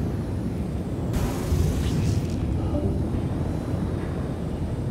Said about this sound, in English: Oh shoot, he rammed me.